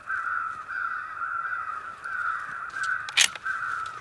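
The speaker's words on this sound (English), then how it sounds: "I can hear crows off in the distance." Crows caw in a steady, repeated series from a distance during a grouse and crow hunt where a crow call is being played, with a sharp short noise near the end.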